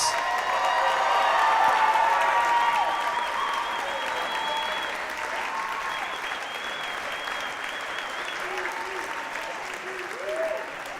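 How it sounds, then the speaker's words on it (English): A university athletics awards crowd gives sustained applause for the MVPs, loud at first and gradually tapering, with scattered cheers mixed in. "give a round of applause"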